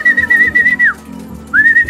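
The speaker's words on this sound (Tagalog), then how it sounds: "Nagre-react na rin sila pag sumisipol tayo." Two sustained, steady human whistles calling young pigeons, the first long and ending in a downward slide, the second rising, with soft low pigeon cooing and rustle underneath.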